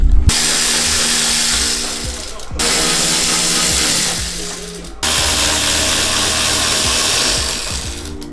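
A power tool, such as an impact wrench or ratchet, works on bolts on a second-generation 2007–2013 Toyota Tundra in three loud, close, sustained whirring bursts, each cut off abruptly, with faint background talk.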